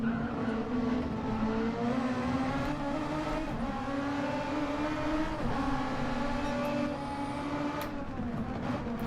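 SF23 race cars cornering in a sim race at a Canadian circuit, their engines droning steadily with shifting pitch and tyres squealing through the turn, loud and continuous without any commentary over it.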